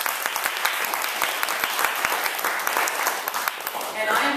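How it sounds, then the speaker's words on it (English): Audience applause for a legal panel on LGBTQ human and civil rights in Chicago, a dense steady wash of many hands clapping that holds for several seconds, with a few voices mixed in underneath. "Let's give our panelists a round of applause."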